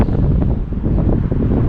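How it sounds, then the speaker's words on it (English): Steady low rumble of wind buffeting the microphone, constant and close throughout with no voices. "especially on a windy day like today."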